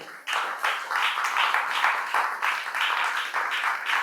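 Audience applause fills a hall, a dense wash of many hands clapping steadily at moderate distance, continuing without a break from start to finish.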